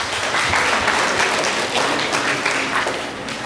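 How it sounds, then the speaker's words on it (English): Attendees at a microfinance bank's annual general meeting applaud, a dense wash of clapping that stays even before easing slightly. "Can we put clap for your bank, please?"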